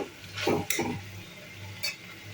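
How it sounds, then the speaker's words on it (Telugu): Capsicum pieces are stirred around a hot pan, giving a soft sizzle with a couple of brief scraping strokes of a spatula near the start and a faint metallic tap later on. "ఇప్పుడు ఇందులో ముందుగా మనం కట్ చేసి పెట్టుకున్న క్యాప్సికమ్ ముక్కలను వేసుకొని అంతా ఒకసారి బాగా కలుపుకొని"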